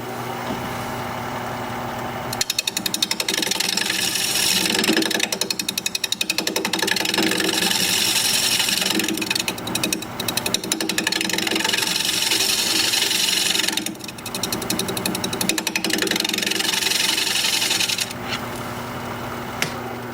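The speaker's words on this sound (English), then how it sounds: "I'm going to do a little shear scraping on the side wall here." Shear scraping the side wall of a holly piece spinning on a wood lathe, a steady, close, raspy scraping with a machine hum beneath, coming in long passes broken by short pauses.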